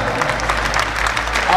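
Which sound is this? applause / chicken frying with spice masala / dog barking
applause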